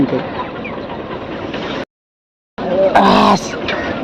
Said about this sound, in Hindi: ये मुर्गी लोग भी है इधर अपने इधर मुर्गी भी है।